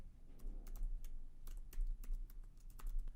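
Keys clatter on a computer keyboard in quick, close, irregular taps over a low background hum.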